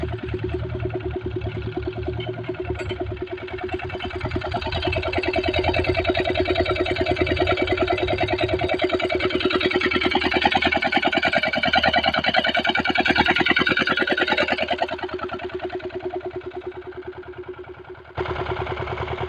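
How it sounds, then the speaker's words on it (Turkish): A tractor engine runs steadily while pulling a plough to clear sunflower stalks from a harvested field, a continuous mid-to-low drone that swells slightly in the middle and drops briefly near the end. "Şu an traktörümüzün arkasında çift ile temizleme yapıyoruz."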